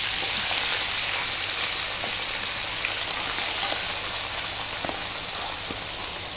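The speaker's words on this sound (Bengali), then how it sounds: "এই যে মাছটা আমি আবারও তেলে দিচ্ছি" Prawns fry in hot, slightly foaming oil with a steady, close, dense crackling sizzle that holds evenly throughout, with scattered tiny pops and no voices.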